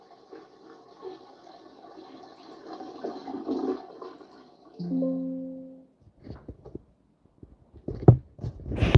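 A toilet flushes during a live stream, a rushing watery swirl that builds for several seconds and then trails off, followed by a short tonal sound and scattered clatter.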